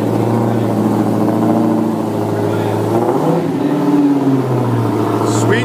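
A supercharged Hemi V8 in a 2015 Dodge Challenger Hellcat rumbles loud and close, a deep steady idle swelling into revs around the middle with a brief rise and fall in pitch.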